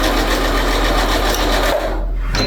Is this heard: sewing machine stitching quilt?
yes